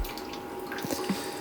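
A photographic darkroom print lifted from a rinse water tray sheds a few scattered drips and small splashes over a faint steady background hiss, close and quiet, with no talking.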